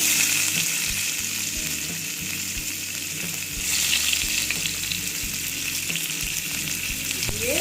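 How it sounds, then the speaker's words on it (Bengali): Black cumin and chopped onion fry in a pan, making a loud, steady sizzle that swells briefly partway through. A faint musical hum sits low beneath the frying, and no one speaks. "এবার আমি দিয়ে দিচ্ছি কালো জিরে তারপরে দিচ্ছি হলো পেঁয়াজ কুচি"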